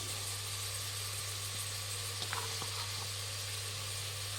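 Mixed vegetables frying in a pan for coconut rice give a steady close sizzle over a low hum, with a few soft scrapes from stirring.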